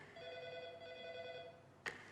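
A telephone rings with an incoming call, a faint steady warbling tone held for over a second, followed by a short sharp click.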